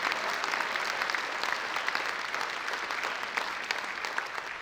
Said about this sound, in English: Please join me in a round of applause for our outstanding seniors